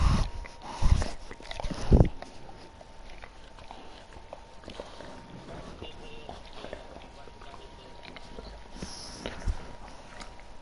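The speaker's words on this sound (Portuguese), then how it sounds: "esta cadela é mesmo chata" A female dog moving and making brief noises indoors at home, a few louder bursts early on and then quieter scuffling, heard under people chatting.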